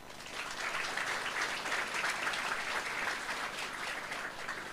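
Audience members at a public gathering in Bandung clap together, a fairly distant, even spread of applause sustained for several seconds without talk.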